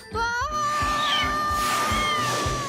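A kitten meows in a Paw Patrol cartoon scene, one long rising-and-falling mew that holds steady and close, with faint cartoon background sound beneath it.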